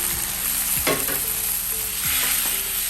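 Steady, close sizzling of chopped tomatoes frying in a pan, with a few scraping stirs of a utensil cutting through the hiss.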